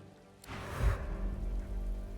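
Rain falling outdoors in Divinity: Original Sin 2, a soft steady hiss that swells in after a quiet start and continues faintly with a low rumble beneath.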